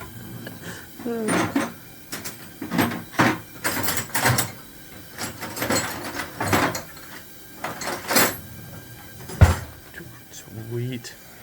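Drawers slide open and shut in a series of knocking, rattling clunks indoors, spaced irregularly across the stretch with a sharper bang near the end.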